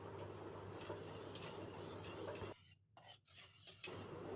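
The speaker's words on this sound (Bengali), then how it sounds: "এর মধ্যে আমি অল্প নারকেল কোড়ানো মিশিয়ে নেব। ভালো করে মিশিয়ে নেব।" Grated coconut being stirred into cooled watermelon juice, a steady soft scraping and swishing for a few seconds before the stirring pauses and quiets near the end.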